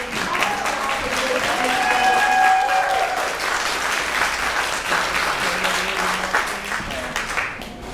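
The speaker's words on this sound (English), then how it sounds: "I want you guys to give both Adelaide and Floyd and Victor a round of applause because they're doing this." Sustained crowd applause at a Modesto political rally, a dense steady wash of clapping lasting throughout, with scattered cheers and voices mixed in and a brief whistle-like tone partway through.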